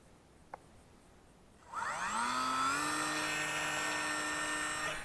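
Electric motor of a Dancing Wings J3 FireBird Cub 600mm RC plane spinning up to half throttle for launch, a steady high whine that rises quickly then holds, close and fairly loud, with no talk.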